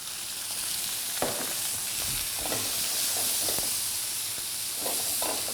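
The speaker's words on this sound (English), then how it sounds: "we've got to cook these lettuce at this temperature" Seasoned lettuce fries in olive oil in a very hot pan, a steady close sizzle and hiss with occasional scrapes and pops as the leaves are moved.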